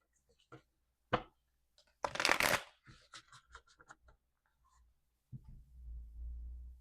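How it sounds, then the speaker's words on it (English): A few bursts of tarot card shuffling, riffles and soft slaps up close, followed by scattered taps, then a low rumbling hum rises at the end. "That was a horrible shuffle."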